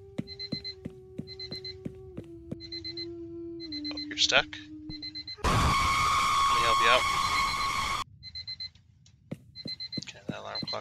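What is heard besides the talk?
ringing alarm clock in a video game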